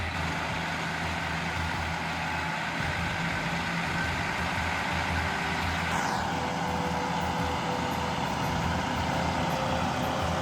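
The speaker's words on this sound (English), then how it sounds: "The engine roared, the sound echoing off the cliffs." A Peterbilt 389 three-wheel-drive truck on a dangerous cliffside gravel road drones with a steady, loud engine roar throughout, joined midway by a rising tonal sweep.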